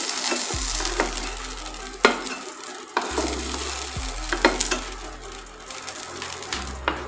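Potatoes frying in hot oil in a pan and being stirred, a steady close sizzle broken by several sharp scraping stirs of a utensil against the pan.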